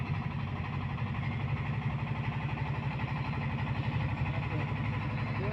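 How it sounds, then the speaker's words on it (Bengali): A boat motor chugging along the Turag river after rain, a steady low rumbling engine drone that stays close and loud throughout with an even pulsing rhythm. "নৌকা যাইতেছে তুরাগ নদী দিয়ে।"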